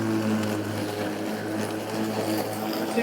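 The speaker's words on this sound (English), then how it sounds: "be able to hear the mower" Electric lawn mower running at top power through thick, wet grass in the rain, a steady droning motor hum with a constant whir and no pauses.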